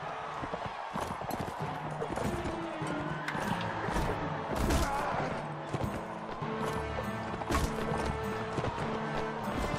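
Horses gallop in a battle in Mount & Blade Warband, hooves pounding in a dense, continuous clatter amid combat noise and clashes, loud and busy throughout.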